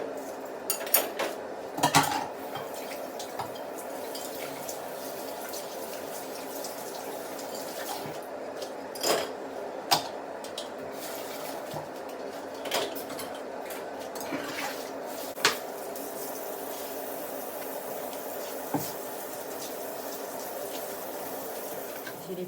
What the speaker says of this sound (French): mettre la vaisselle dans le lave-vaisselle.